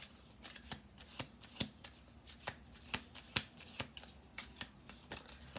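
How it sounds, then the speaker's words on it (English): Playing cards being shuffled in a series of crisp riffles and snaps, close and fairly quiet, with short pauses between bursts. "We'll do two more shuffle throughs."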